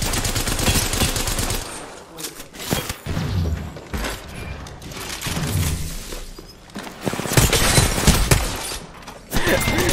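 Video game gunfire, dense bursts of automatic shots recurring in loud waves across the span, with occasional sharp impacts and little talk.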